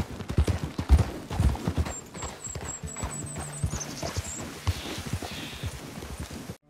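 Hooves of a gold palomino Tennessee Walker horse clip-clop rapidly down a mountain in a video game, a brisk, close, uneven beat with faint high chimes and a soft whinny over it.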